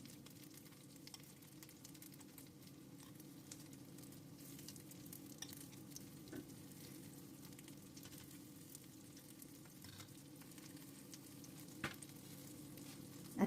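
A smashed burger patty frying in a pan, giving a quiet, continuous sizzle that holds evenly throughout with a few small pops.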